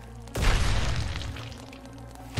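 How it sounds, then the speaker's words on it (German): An explosion in a video game, a sudden loud boom that breaks in and rumbles off slowly, with another hit starting right at the end. "Einer ist explodiert."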